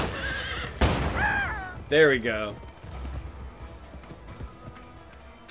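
Horse neighing in the Western video game Gun, two loud whinnies close by with soft hoof thuds after, while someone talks briefly.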